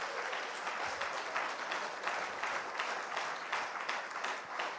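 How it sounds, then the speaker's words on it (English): An audience claps to welcome a presenter onto the stage at a European leadership camp, a sustained, fairly even round of applause at moderate volume throughout. "Let the claps go on."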